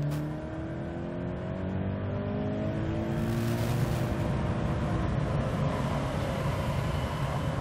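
A Scion FR-S sports car accelerates onto a freeway, its engine note climbing in steady rising harmonics, loud and close from inside the cabin, with continuous road and wind roar and no talking.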